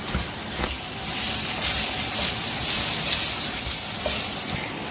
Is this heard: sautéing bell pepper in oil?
yes